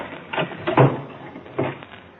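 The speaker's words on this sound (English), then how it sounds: "I dragged his body into the closet and locked the door." A closet door shuts with a few soft wooden knocks and a thud, followed by a brief latch or lock sound, a close, moderate radio drama sound effect with no talk.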